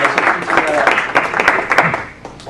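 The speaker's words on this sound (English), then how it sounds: "Everybody give him a round of applause." Seminar audience applauding a presenter as he is introduced, a dense steady wash of many hands clapping that holds for a couple of seconds and tapers slightly at the end.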